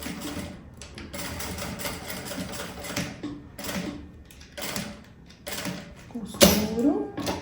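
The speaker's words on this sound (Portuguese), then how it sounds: "E vou passar a costura aqui rebatendo." Sewing machine topstitching a seam on a handmade bag, giving repeated bursts of fast mechanical needle rattle, close by, then a sharp louder clack near the end.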